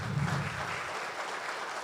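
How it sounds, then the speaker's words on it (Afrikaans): A church congregation applauds its worship team, a steady, dense wash of clapping that holds evenly at moderate loudness with no speech over it. "Ek skal vir hulle 'n lekker hande klap gee"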